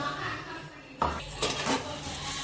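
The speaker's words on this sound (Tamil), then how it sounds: "ஒரு 2 நிமிஷத்துக்கு நல்லா வதக்கி விடுங்க" Mutton chukka masala being sautéed in a pan, with a spoon clinking and scraping against the metal in a few distinct knocks over a faint background, no voices heard.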